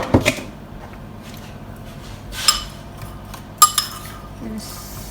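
A spoon mixes sugar into Chelsea bun filling in a bowl, giving a few sharp, separate clinks against the bowl amid quiet gaps of soft handling.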